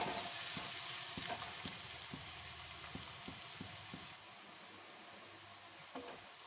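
Onions fry in a pan for a capsicum vegetable dish, a soft continuous sizzle with a run of light, regular stirring clicks about every half second, close and quiet.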